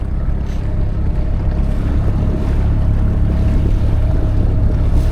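A small boat's outboard motor runs at speed at about 2,000 RPM on open water, a steady low droning rumble mixed with rushing wind and water splash, close and continuous without speech.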